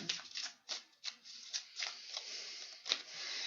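Rapid papery riffling bursts repeat several times, like cards being shuffled up close, with short pauses between quick flurries.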